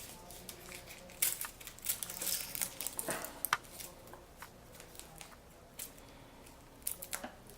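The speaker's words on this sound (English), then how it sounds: "we basically take the cover off from the onion, just peel it" Crisp, faint papery crackles and rustles come from an onion's dry skin being peeled off by hand, in short irregular bursts close to the microphone.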